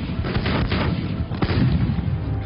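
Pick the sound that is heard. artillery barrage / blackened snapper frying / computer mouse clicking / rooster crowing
artillery barrage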